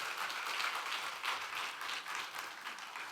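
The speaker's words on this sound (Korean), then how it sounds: "다시 한 번 박수 보내주세요." Quiet applause from a Sunday church congregation after a performance, a soft continuous patter of clapping heard from a distance.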